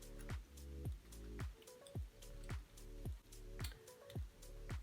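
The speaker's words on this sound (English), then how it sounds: "So I'm going to stir this for about like 5 minutes." Vitamin C powder being stirred into a homemade face serum in a small container gives soft, wet clicking strokes at a steady, even rhythm, quiet and close.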